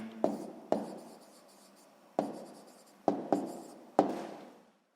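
A pen scratches out a math answer on paper in several short strokes with pauses between them, close and quiet, with no voices.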